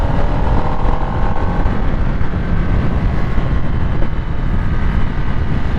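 A 2023 Harley-Davidson Nightster 975 motorcycle ridden at speed, its engine droning steadily under heavy wind rush, loud and close throughout with no break.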